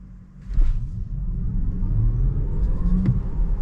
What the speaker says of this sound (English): I'm just gonna do a 0 to 50 acceleration.